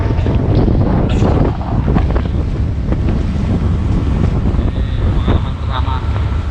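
Large ferry ship making the Ketapang–Gilimanuk crossing, a loud steady rumble of engine and water mixed with strong wind buffeting the microphone, constant throughout.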